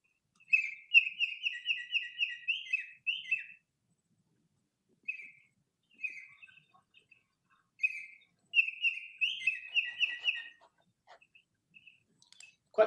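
A bird sings a pleasant whistling song in clear bursts of rapid repeated notes, separated by pauses and shorter isolated phrases, close and alone against a quiet background.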